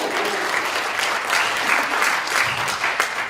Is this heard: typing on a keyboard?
no